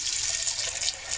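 Hot water runs steadily from a kitchen faucet while stew is being cooked, a continuous close hiss and splash with no talking.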